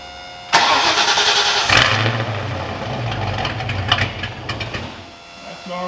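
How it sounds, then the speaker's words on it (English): A Foxbody car with a new custom exhaust cranks and fires up, then settles into a loud, throaty idle with small rev blips, close and alone for about five seconds. "So I'm gonna go ahead and fire it up, make sure everything sounds good"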